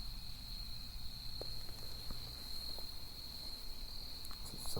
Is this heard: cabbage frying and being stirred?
no